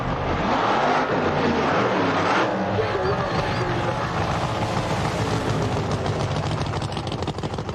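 The Little Red Wagon wheelstander drag racing truck's engine, a loud, sustained roar with shifting pitch that fills the whole stretch, close and steady.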